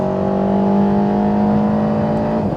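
Alpine A110 R Ultime engine held at high revs near the rev limit, a loud steady drone with strong constant harmonics throughout, close and continuous with no talk.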